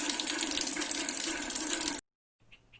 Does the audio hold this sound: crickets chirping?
no